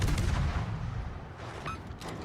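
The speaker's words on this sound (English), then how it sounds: "Got torpedo hit on something." A torpedo strikes a ship during a World of Warships naval battle, a loud, booming explosion that rumbles through the opening second before settling into a lower, continuous roar with a faint later hit.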